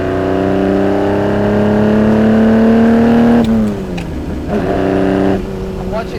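A Ferrari 250 GT Berlinetta Lusso with a louder, more aggressive aftermarket exhaust revs hard, a steady loud rising engine note that drops away at a gear change and then picks back up, with a second dip near the end.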